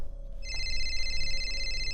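A phone starts ringing after a brief quiet moment, a steady electronic ringtone with sustained high tones that carries on evenly, close by and with no one talking.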